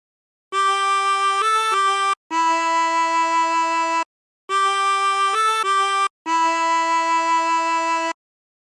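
Silent Night melody played on a chromatic harmonica, four sustained reedy phrases in two matching pairs with brief gaps between, steady and close, no talking.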